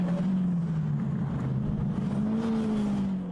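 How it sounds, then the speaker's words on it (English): Race cars accelerating hard at Oulton Park during a 2016 Roadsport race, a loud, continuous engine drone whose pitch climbs and shifts as several cars drive past close by. "cars accelerating their way up towards the Britons chicane"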